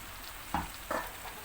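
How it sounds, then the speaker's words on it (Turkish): Broad beans roasting in a hot pan give two short, moderately loud bursts of stirring and sizzle against a quiet background, with no talking. "Arkadaşlar baklamız kavruldu bayağı."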